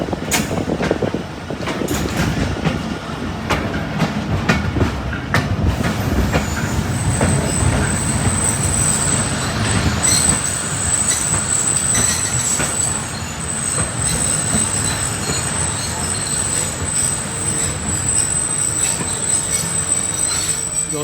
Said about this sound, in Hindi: दोस्तों पखवाल पर आकर स्टॉप किया है चिनाब एक्सप्रेस ने